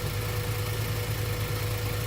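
A 1997 Acura Integra engine with an idle problem runs at a steady, even idle, a constant low hum and vibration with no talk.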